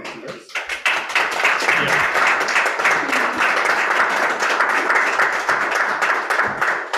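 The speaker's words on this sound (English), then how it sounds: "Let us give her a round of applause as she comes on" Audience applause at an executive installation ceremony, a brisk round of clapping that starts abruptly and holds steady and fairly close for several seconds.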